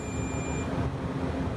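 A continuity tester held on a power strip cord connection gives a brief high electronic beep at the start, then cuts off, leaving a low background hum.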